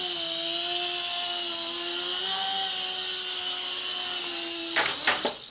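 An LH-1211 mini RC helicopter flies indoors with a steady, high-pitched rotor whine and motor hum, ending in a few sharp clattering knocks.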